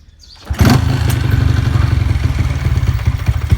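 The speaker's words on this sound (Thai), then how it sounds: "รถคันนี้ มันจะเดินเบาไม่ค่อยอยู่นะ เพราะ ว่ากล่องมันเสียนะครับ" A 125cc carburetted motorcycle with a faulty ignition box starts up and idles loud and close, its engine chugging with a rough, uneven pulse.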